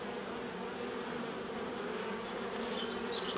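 Bees from a wild colony cut out and moved into a hive in the UK make a dense, steady buzz, constant and close throughout, with no talk.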